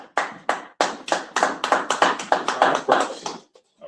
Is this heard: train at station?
no